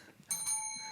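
Game show contestants strike bells on a studio set, giving a bright ring and then a second overlapping ring that lingers with a soft decaying tone, clear and fairly close.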